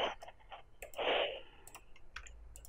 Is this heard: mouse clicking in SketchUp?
yes